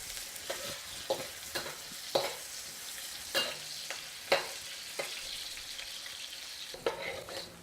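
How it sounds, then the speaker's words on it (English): Chopped onion stir frying in a pan, a steady sizzle under repeated scraping and clacking strokes of a utensil against the pan at an irregular pace, close and moderately loud, with no speech. "they want us to stir fry this until it gets a little golden brown"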